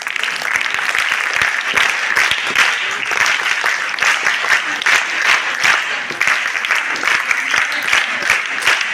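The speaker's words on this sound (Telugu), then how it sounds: "క్లాప్స్" A room full of people claps steadily at a National Science Day celebration held by Jana Vignana Vedika, the applause dense and sustained for the whole stretch with a few voices mixed in.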